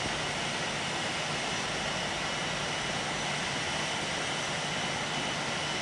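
Steady broadband roar of an aircraft engine in a flight simulator game, a failing, smoking left engine, constant and loud throughout with no talk.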